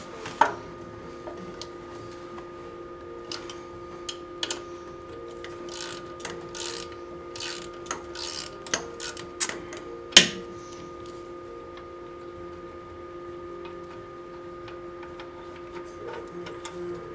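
A Pittsburgh socket ratchet works on an EGR bolt on an LML Duramax, giving close, crisp clicking in short irregular bursts, with a louder metallic clack near the end over a steady background hum.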